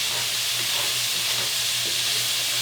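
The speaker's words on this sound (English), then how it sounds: "Now the red peppers going into that dish, into that pan." Red peppers frying in a pan for steak, eggs and hash: a steady, close sizzling hiss with a faint low hum underneath and no voices.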